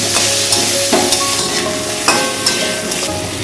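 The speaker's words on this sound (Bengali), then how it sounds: "এবার আমি ওর মধ্যে মাছের মাথাগুলোকে দিয়ে একসঙ্গে মশলাটা দিয়ে ভালো করে কষিয়ে নেব" Fish heads fry with spice paste in a pan for a Bengali muro ghonto, giving a steady loud sizzle broken by several sharp scraping strokes of the stirring spoon.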